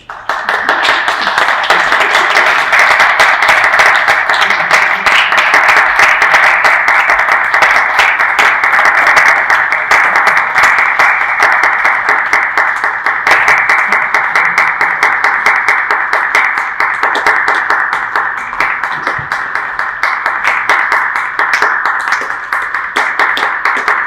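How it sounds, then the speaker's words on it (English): Sustained applause from a keynote audience at a tech summit, with clapping and some cheering after a group exercise, loud and steady for about twenty-four seconds before easing slightly near the end. "thanks for the applause"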